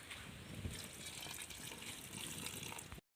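Water pouring into a pot of cooking chicken curry, a steady gushing splash for about three seconds before cutting off abruptly.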